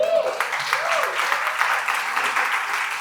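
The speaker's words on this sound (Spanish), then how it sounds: "Démosle un aplauso al Señor." A church congregation claps in applause throughout, steady and fairly loud, with a voice or cheer rising over the clapping at the start.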